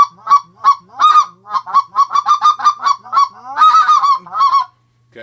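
A Triad Killer short reed goose call blown up close in quick speck clucks, a rapid series of loud honking notes in bursts, with no talking.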